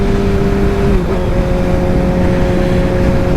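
A Kawasaki Ninja ZX-6R motorcycle engine heard up close while riding, a loud steady drone that dips briefly in pitch around a gear change before holding a constant hum, with no talk.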